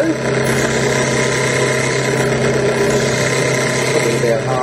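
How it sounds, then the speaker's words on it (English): A small rotary drill whines steadily as it re-drills a hole through a bead under running water, a continuous close, loud motor drone with a grinding edge. "And we'll just keep drilling until we're most of the way through."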